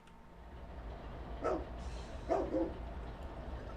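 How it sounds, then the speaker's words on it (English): Two faint barks from a dog inside the Trainz railway simulator sound in a mountain scene, spaced about a second apart over a low steady background hum. "You hear a dog barking down there."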